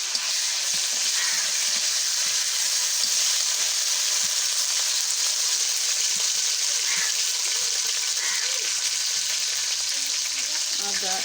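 Onion with ginger garlic paste fries in a pan over a clay stove, giving a loud, constant close sizzle with occasional stirring scrapes throughout.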